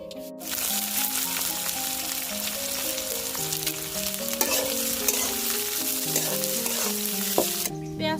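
Chopped onion frying in white oil with cloves in a kadai, a steady close sizzle that holds throughout, with occasional stirring scrapes and no voices.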